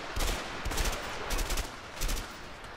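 Gunfire from a shootout in A Way Out comes as four sharp, loud bursts of rapid shots, evenly spaced, each one booming low and cracking bright, with only a steady background rumble between them.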